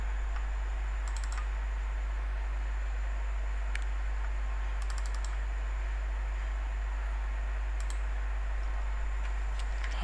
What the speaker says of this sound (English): Okay, I'm using the keyboard.